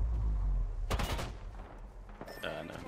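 Bursts of gunfire in the shooter game Apex Legends, a heavy rapid volley near the start and scattered shots later, mixed with a rumbling blast and game noise.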